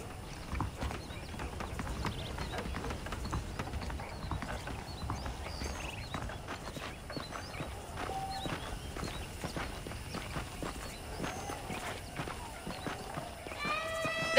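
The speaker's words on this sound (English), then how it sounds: "The horses are saddled up over here." Horses clip-clop at a walking pace in the Red Dead Redemption video game, steady hoof beats on hard ground running throughout at moderate volume with faint background ambience and a brief chime near the end.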